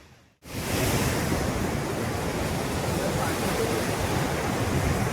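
Water pours out from a dam into the river below, a loud, continuous roar of rushing water that starts abruptly after a brief quiet moment and stays steady with no talking.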